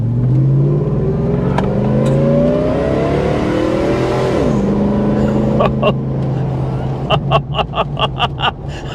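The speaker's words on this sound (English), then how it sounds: "That supercharger whine, though." A supercharged Hummer H2 truck accelerates with a rising engine roar and supercharger whine that climbs in pitch, dips with a gear change, then settles; a voice talks over it and clicking taps come near the end.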